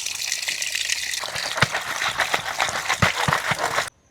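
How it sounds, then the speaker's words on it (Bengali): Pieces of freshly cut snakehead fish are washed by hand in water, with close splashing, sloshing and slapping that continues unevenly before stopping abruptly. "এবারে মাছটাকে পরিষ্কার করে ধুয়ে নেব।"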